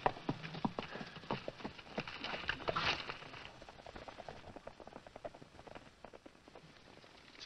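Several horses clip-clop on hard ground in an Old West setting, a busy run of hoofbeats that fades as they trot away, leaving scattered fainter steps.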